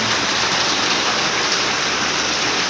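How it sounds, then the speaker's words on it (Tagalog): A constant downpour of rain outside a classroom, loud and near, fills the whole moment with an even rushing hiss and nothing else. "Ulan."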